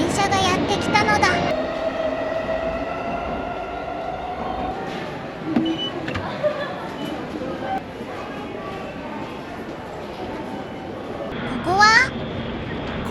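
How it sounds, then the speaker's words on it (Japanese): A JR train pulls into a station in Saitama City, rumbling steadily with a brief metallic squeal near the end, while voices talk over it. "タイミングよく電車がやってきたのだ。"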